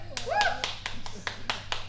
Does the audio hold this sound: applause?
yes